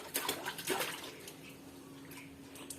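Water splashes and pours over a child during a bath, close and fairly soft, with a few sloshing bursts in the first second before settling into a quieter trickle.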